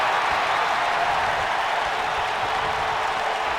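Simulated crowd applause from a WWE 2K wrestling game arena is a steady, even roar of clapping and crowd noise throughout, without speech.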